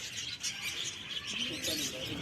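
Small colourful birds in an enclosure at Patiala zoo chirp and tweet continuously in a busy, fairly faint chorus of overlapping calls, with no speech.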